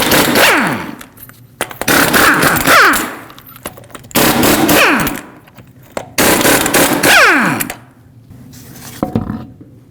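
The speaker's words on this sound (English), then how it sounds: "use a 22mm socket, remove all 6 lug nuts, and then remove the wheel" Lug nuts come off a 2015-2020 GMC Yukon wheel with a 22mm socket on an impact wrench, which gives four loud, rattling bursts about two seconds each, separated by short pauses, close up.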